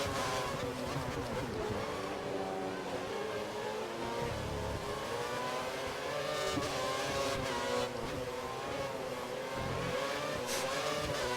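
Formula 1 race car engines in the F1 2013 game, Belgian round, scream continuously with rising and falling revs as several cars run close together, loud and dense throughout.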